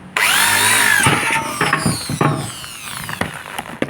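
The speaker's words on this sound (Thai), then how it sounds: "ต่อไปเราก็ใช้สว่าน" An electric drill bores holes through a door edge to fit a swing lock, a loud close whine with rising and falling pitch and brief pauses between bursts.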